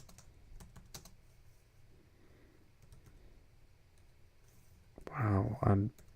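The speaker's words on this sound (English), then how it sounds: "my typing on this other computer is just as bad as on this big one we're on" Light, irregular typing on a computer keyboard clicks softly in a quiet room, followed near the end by a burst of louder, faster keystrokes.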